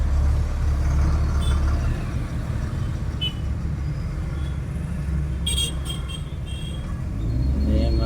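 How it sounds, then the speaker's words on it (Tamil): Heavy road traffic backed up near a railway crossing: a steady, dense rumble of cars, trucks and buses idling and creeping close by, with a few brief hisses like air brakes, continuous throughout. "எல்லாமே டிராஃபிக் ஆகிவிட்டது நேரில் பாருங்கள்"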